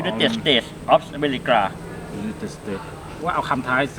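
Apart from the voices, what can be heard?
None of the usual background noises is heard.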